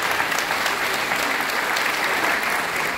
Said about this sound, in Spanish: Fuerte los aplausos para los señores Callejas.